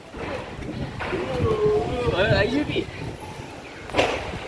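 Strong wind blowing outdoors, a loud, gusty broadband rush that swells and eases across the clip, with a voice briefly audible beneath it.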